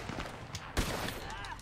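Gunfire in Red Dead Online, a Western video game: a short burst of several sharp shots with one loud crack near the middle, mixed with background game noise and faint voices.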